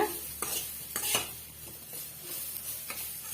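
Carrots sautéed in a pan for carrot payasam, quiet sizzling broken by several short scraping strokes of a spoon stirring against the pan.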